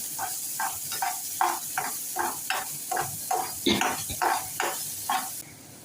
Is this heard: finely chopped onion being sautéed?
yes